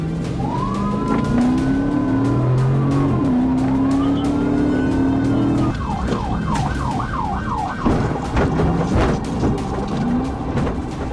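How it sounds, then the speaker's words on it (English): Car speeding away from police in a high-risk pursuit through traffic, its engine roaring loudly up close while a police siren wails and yelps alongside. "A high-risk pursuit followed as he drove recklessly, weaving through traffic in an attempt to escape."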